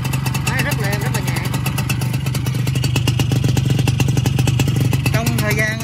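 A Yamaha Yaz 125 motorcycle engine idles close by with a steady, even rapid pulsing, while someone talks over it throughout.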